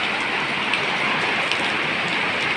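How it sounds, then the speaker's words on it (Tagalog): Heavy rain pours down steadily at a car show, a dense, continuous broadband hiss with no pauses and no voices over it. "Yay ang lakas ng ulan"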